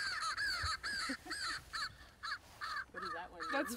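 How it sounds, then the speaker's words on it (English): A string of harsh American crow caws in quick succession, loud and fairly close, followed by a few lower, more varied calls. "the different types of sounds that crows make"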